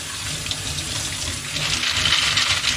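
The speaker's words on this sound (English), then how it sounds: "I'm going to pour one bag into this little tray here, and rinse it off here" Running water splashes steadily as aquarium filter media is rinsed in a small tray, close and continuous with no talking.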